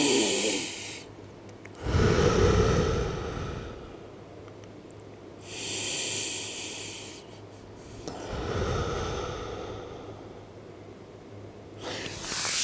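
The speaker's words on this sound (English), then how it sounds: "big, deep belly breaths" Slow, deep belly breaths from someone lying face down, each long inhale and exhale clearly audible and close, repeating in an even rhythm with quiet pauses between.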